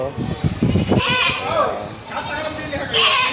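Goats bleat at a livestock market on a rainy day, several wavering calls rising over steady crowd chatter and people talking nearby.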